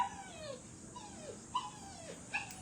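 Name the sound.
dog whimpering before being bathed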